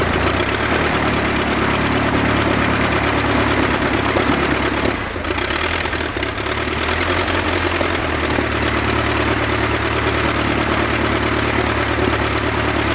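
A 1912 Taube F aircraft engine runs outdoors, a loud, steady low rumble that fills the whole clip, with strong wind noise mixed in and a brief dip around the middle.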